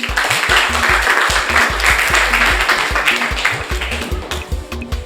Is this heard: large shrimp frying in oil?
no